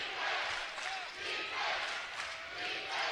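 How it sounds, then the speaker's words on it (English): A basketball crowd at Burns Arena roars late in a close game, a loud, sustained wall of cheering that surges in waves. "listen to this Burns Arena crowd"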